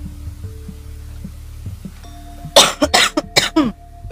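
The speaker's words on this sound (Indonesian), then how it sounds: "Batuk." A person coughs several times in a quick, harsh burst close to the microphone after a quiet stretch with a low background hum.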